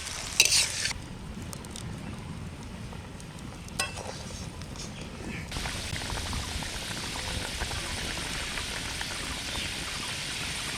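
Koi fish curry gravy with potatoes boiling in a pot, a steady bubbling hiss that grows fuller and louder midway, with a few clinks near the start.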